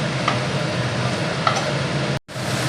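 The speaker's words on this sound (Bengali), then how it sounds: "এই যে এইবার বড়িটা লাউয়ের সাথে মিশিয়ে দেব নেড়ে।" Lentil dumplings (bori) are stirred into bottle gourd cooking in a pan, a continuous close sizzle with a couple of soft scraping knocks from the stirring and a brief cut near the end.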